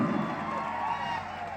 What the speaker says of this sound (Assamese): অকণমান হাত চাপৰি দিব লাগে বৰষাৰ কাৰণে